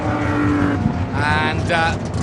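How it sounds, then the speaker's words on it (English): A Trans Am race car roars past at a vintage racing festival, its engine note rising loudly behind someone talking, with other track noise underneath. "one of the Trans Am cars just passing by"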